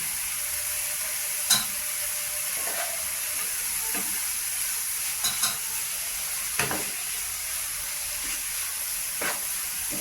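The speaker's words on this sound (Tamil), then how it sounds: "மிளகாய் தூள் போட்டு நன்கு கிளறுது போட்டு மிளகு சீரகத்தூள் போட்டு நன்கு கிளறுவேன்" Drumstick pasta with chili powder being stirred in a frying pan, a steady sizzle and hiss throughout with scattered scraping taps of the spoon, close and continuous, no voices.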